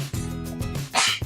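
A single sneeze bursts out near the end, abrupt and fairly loud, following low voiced sounds with a dog-like, whimpering quality.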